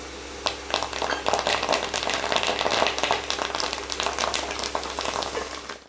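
Crushed garlic and curry leaves frying in oil for raw mango chutney, a dense continuous sizzle and crackle with occasional stirring clatter, close and steady throughout.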